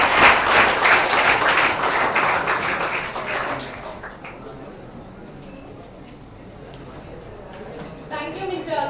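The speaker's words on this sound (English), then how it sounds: "let's have a big round of applause for our lovely audience" An audience at a live event bursts into a loud round of applause, dense clapping filling the room before gradually thinning and fading, then a brief renewed patter of claps at the end.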